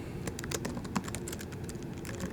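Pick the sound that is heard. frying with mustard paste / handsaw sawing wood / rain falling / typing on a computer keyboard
typing on a computer keyboard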